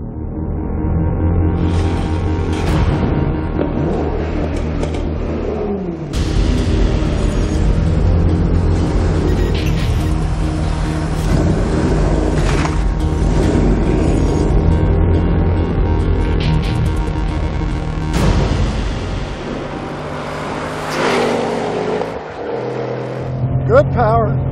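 A sports car engine revs and pulls hard through gear changes on a race track, whining and roaring up and down, with someone talking over it throughout.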